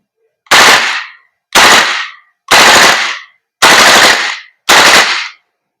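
An Edition 11.5 BCM MCMR airsoft gas blowback rifle fires five loud, close bursts in full auto and burst mode. Each burst is a short rapid rattle of shots, about a second apart, with silence between.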